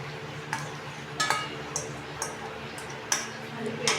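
Yogurt being stirred into beef kofta in a pot, heard as a spoon clinking sharply against the metal rim several times at an uneven pace over a quiet background.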